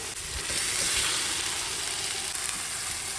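Prawns hitting a hot pan with coconut water for a Bengali daab chingri dish, giving a steady, loud, broad sizzle that holds for several seconds with no talk.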